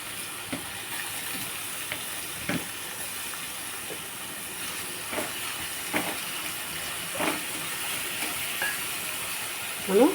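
Raw banana pieces with curry leaves and slit green chillies cook in a pan, giving a steady soft hiss broken by occasional faint pops and crackles.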